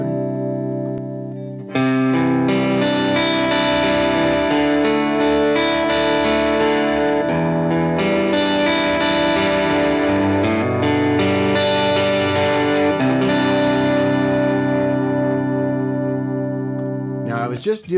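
Electric guitar running through a pedalboard with a compressor pedal added, entering after a short quiet lead-in and then sustaining evenly at steady loudness with chorus and echo-washed chords for most of the stretch.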